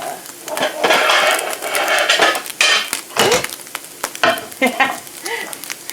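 Stacked washed dishes, plates and pans clatter and knock together in a home kitchen during cooking, a busy run of sharp clinks and scrapes, loud and close, with a sizzling pan underneath.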